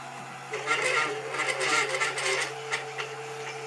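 A Tevo Tarantula 3D printer mid-print with a noisy lead screw: steady motor hum under rhythmic bursts of whirring and buzzing stepper movement, close and moderately loud.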